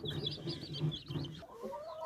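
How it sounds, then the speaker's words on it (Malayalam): A young Java breed hen on a poultry farm gives a few soft, rhythmic clucks, faint and fairly close, with no speech. "ഇത് നമ്മളിവിടെ തന്നെ ഇറക്കി വലുതാക്കിയ ഒരു ജാവ പെടക്കുട്ടിയാണ്"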